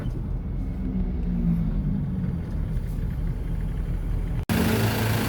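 A Ford Ranger XLT with low power and a suspected leak toward the EGR runs steadily, giving a close, continuous low engine rumble that cuts out for a split second near the end before resuming.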